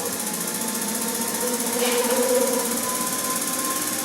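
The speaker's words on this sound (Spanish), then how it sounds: "ahí tenemos ya el motor funcionando" A Motronic fuel-injected engine simulated on an Elwe training rig runs at a steady rhythmic idle, a continuous mechanical hum and tick with a slight swell midway.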